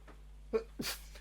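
A single sharp sneeze, close and fairly loud, preceded by a short intake of breath, over a quiet background hum.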